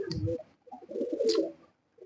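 Silver pigeons coo in a loft, their low throaty calls rolling close by in two soft bursts with a brief pause between, no voices.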